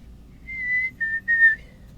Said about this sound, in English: my favorite bird call is the black-capped chickadee? Because they have that programmed in here right now. You can hear it. It's the whistle that goes